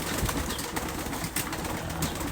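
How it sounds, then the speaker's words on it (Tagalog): Pigeons gather at feeding time, with a dense rustle of flapping wings and shuffling, brief wingbeat bursts and faint cooing in a continuous noisy backdrop. "Nakatapos lang maglugon yan mga kalapatids."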